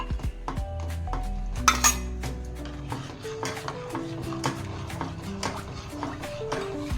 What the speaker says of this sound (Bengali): যখন কাস্টার্ডটা দেবেন ভালো করে নেড়ে নেবেন, না হলে ভিতরে লামস হয়ে থাকবে